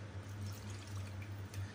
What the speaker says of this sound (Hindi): एक पैन में 1 कप पानी डालेंगे।